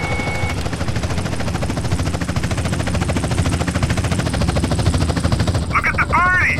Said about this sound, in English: it's just regular police helicopter, just a standard one.